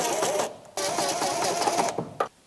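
Electrical box being screwed into place with a power driver: two whirring bursts of screwdriving, close by, with a short pause between them and a small knock at the end, no talking.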